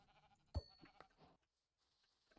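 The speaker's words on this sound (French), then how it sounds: "on va se chercher les derniers moutons" Sheep bleating in a hardcore survival video game, one short sharp bleat up close followed by a few fainter broken bleats, over a quiet background.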